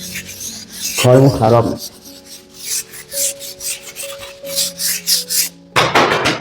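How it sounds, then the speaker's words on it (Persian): Sandpaper is rubbed by hand across a plaster wall being prepared for paint, giving loud, rhythmic rasping strokes in uneven bursts, with a person speaking briefly near the start. "باید کامل همین سنباده بخوره"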